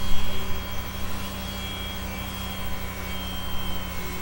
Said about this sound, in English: And now the sander.